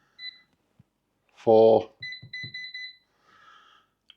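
Air fryer control panel giving a series of short electronic beeps as temperature and timer settings are entered, a quick run of evenly spaced tones between spoken remarks.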